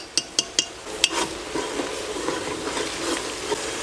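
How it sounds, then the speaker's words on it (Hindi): Ground turmeric, red chili, salt and coriander powder fry in a pot for haleem, with a few sharp spoon clinks against the metal at the start, then a steady low sizzle and scraping stir throughout. "तमाम मसाले भुन चुके हैं"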